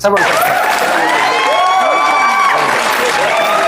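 Guests at a family wedding celebration in India applauding, loud sustained clapping with cheering and excited voices and whoops rising over it, close and lively throughout.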